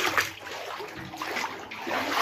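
Water runs from a faulty bathroom drainage line into a gas area, a faint, steady splashing trickle close by with no voices.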